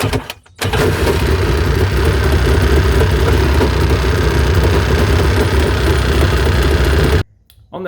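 A riding mower engine runs at a steady, loud idle for several seconds, then cuts off abruptly into near silence.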